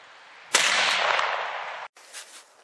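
A single sharp rifle shot fired at a turkey while hunting cracks loud and close, followed by a lingering rushing decay and then faint outdoor noise.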